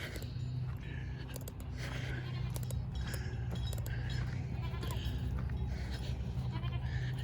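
Goats bleat nearby several times over a noisy outdoor background, with faint clinking and shuffling.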